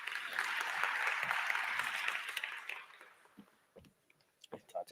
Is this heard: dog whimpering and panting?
no